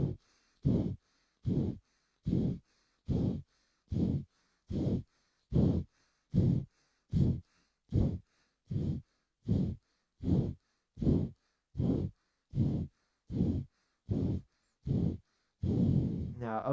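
Alternate-nostril yoga breathing of the Kundalini kriya kind, about twenty forceful pumping nasal exhales in a steady rhythm roughly every 0.8 seconds, close and breathy, ending in a longer breath.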